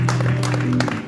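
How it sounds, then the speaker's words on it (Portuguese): Clapping from a church congregation during a worship service rises over a sustained organ-like tone, with sharp bursts of hands amid steady background music. "Você pode aplaudir o seu Jesus?"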